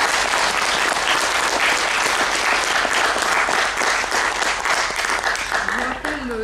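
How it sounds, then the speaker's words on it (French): An audience gives sustained, dense applause after a lecture on the history of forests in southern Picardy, a loud continuous wash of many hands that tapers slightly before a voice begins at the end. "je vous propose d'applaudir une nouvelle fois notre conférence"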